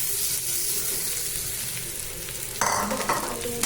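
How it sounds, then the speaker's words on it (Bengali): Potato and bitter gourd frying in oil with onion and green chilli, stirred in a pan: a steady close sizzle, with sharper scraping and spattering bursts toward the end, no talk. "আলু উচ্ছে দিয়ে ভালো করে নেড়ে নেবো"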